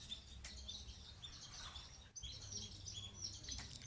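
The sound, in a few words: pied kingfisher calls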